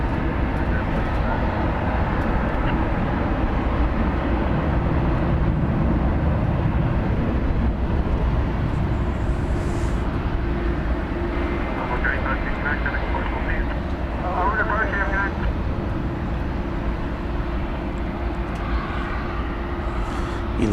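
An American Airlines Airbus A321, flight 2602 arriving from Charlotte, lands at DFW Airport with a steady, loud jet roar that holds throughout, under occasional talk.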